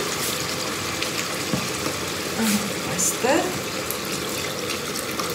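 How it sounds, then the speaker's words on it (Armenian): Water poured into a cooking pot for potatoes, a steady broadband splashing gush running through the whole stretch, with a voice speaking briefly over it. "Այս մեկն արդեն ժամանակն է ջուրը և կարտոֆիլը լցնելու։"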